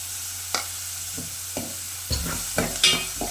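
Onions sautéing and being stirred in a pan with a pinch of salt, with intermittent scraping strokes over a soft steady sizzle and a few louder clatters toward the end; no voices.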